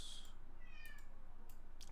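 A housecat, a female shut out of the room, meows a few times in the background, the cries faint and distant over a steady low hum.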